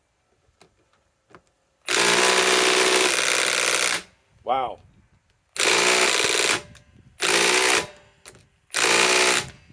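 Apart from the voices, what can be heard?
Metabo HPT triple hammer bolt impact driver driving into wood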